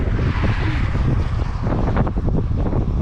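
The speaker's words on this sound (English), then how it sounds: "Alright, here comes the strong winds." Strong wind during bad weather in Mississippi, roaring and buffeting the microphone in a loud continuous rush with gusty surges.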